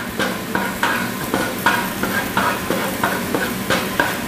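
Garlic sizzling and frying in warmed oil while being stirred, a steady crackle broken by regular rhythmic scrapes of a utensil against the pan, close and fairly loud.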